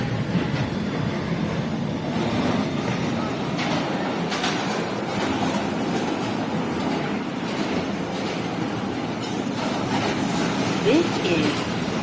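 An R160B Siemens subway car on the New York R line runs with a continuous loud rumble and rattling wheel noise from inside the carriage, steady for the whole stretch.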